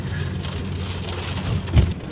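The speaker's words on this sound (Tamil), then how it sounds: "மழை வேற வருது." Rain falls steadily in the hills at Yelagiri, a dense close patter on surfaces with a brief heavier thump near the end, and no talking.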